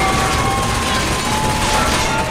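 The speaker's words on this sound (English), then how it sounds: "Fireworks!" Rapid crackling bursts of video game fireworks in a chaotic celebration scene, a dense, continuous loud barrage of pops and bangs with no pauses.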